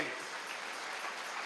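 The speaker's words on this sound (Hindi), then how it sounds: "जोर से ताली बजाइए।" An audience at a birthday celebration claps loudly and steadily, a dense wash of applause that fills the short stretch without pause.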